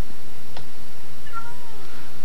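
A cat meows once in the video game Minecraft, a short, clear call standing alone over a quiet background.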